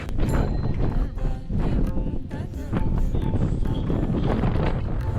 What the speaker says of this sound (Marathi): त्यात वारा सगळं थंड थंड आहे